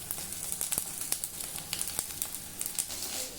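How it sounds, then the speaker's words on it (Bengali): Mustard seeds frying in hot oil in a pan for okra, a close crackling sizzle with scattered sharp pops and spits, no voices. "বেশি না, 2-3 সেকেন্ড হয়ে গেছে সরষা ভাজা।"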